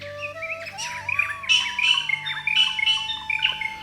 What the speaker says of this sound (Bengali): বনের ভেতরের কণ্ঠশিল্পী হিসেবে পরিচিত ভীমরাজ পাখি বা র্যাকেট টেল ড্রঙ্গ